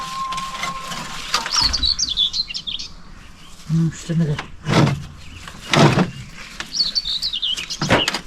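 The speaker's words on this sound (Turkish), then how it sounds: "Kuşlar benden çabuk yiyor." Birds chirp and tweet in short bursts outdoors, with people talking and a few knocks and clatters in between.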